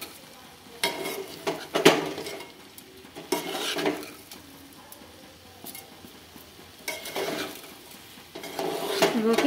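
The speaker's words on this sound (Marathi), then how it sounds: "आपण 2 मिनिटं भाजून घेऊया मसाल्यामध्ये भाताला" Cooked rice is fried and stirred into masala in a pan, with spoon scrapes coming in short bursts over a low, steady sizzle and some pauses between them.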